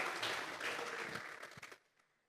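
Church congregation clapping as an offering to God, a short burst of scattered, fairly faint applause that thins out and stops after about two seconds.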